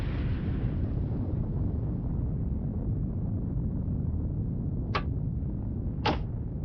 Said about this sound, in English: Con, sonar, explosion bearing 0, 7, 3.